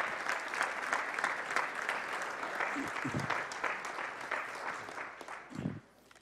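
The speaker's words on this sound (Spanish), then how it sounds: "Dale un aplauso al Señor." Church congregation clapping together during a sermon, a fairly dense burst of applause that holds steady for several seconds before tapering off, with faint voices and murmurs mixed in underneath.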